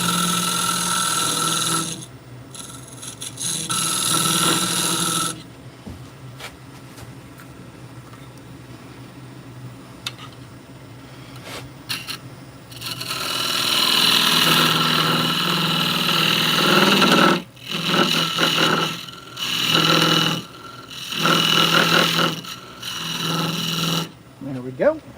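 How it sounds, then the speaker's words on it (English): A skew chisel cutting a dovetail into wood spinning on a lathe, sounding as a steady rasping, scraping drone with a continuous motor hum, broken into bursts as the cut starts and stops, with someone talking at times. "we're going to go ahead and use the skew to put a dovetail in"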